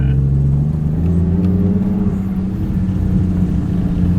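Nissan 180SX drivetrain whirring and rumbling from the gearbox or bearings while driving: a continuous low, droning hum with a steady tonal whine riding on the engine and road noise, close and loud.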